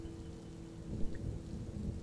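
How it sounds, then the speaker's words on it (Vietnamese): Steady rain pours down under a low rumble of thunder, a continuous stormy bed for a Vietnamese ghost story, with no voices over it. "bỗng có một cơn mưa trút xuống như đang khóc thương cho chính số phận hẩm hiu của con trai bà cả"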